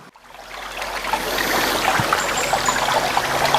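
Waterfall pouring over broken rock ledges into a pool below, a steady rushing hiss that swells in from quiet and holds as a continuous roar of falling water.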